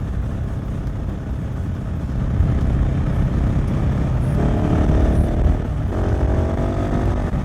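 2021 KTM 690 SMC R single-cylinder motorcycle engine pulling in sixth gear, slightly chuggy: a loud, steady low thrum with wind noise, rising into a rougher, harmonic drone as the throttle opens.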